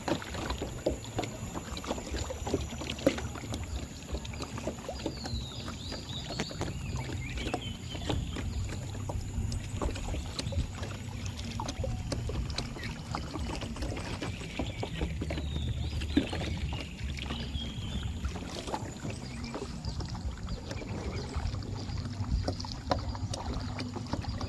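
A boat travels along the river in Vang Vieng, Laos, its motor and water noise forming a continuous rough rumble with wind buffeting the microphone and no talking.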